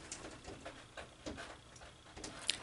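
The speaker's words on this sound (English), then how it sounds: "That's my cat scratching the door." Faint, irregular scratching bursts scattered across a quiet background, a cat's claws raking at a door a short distance away.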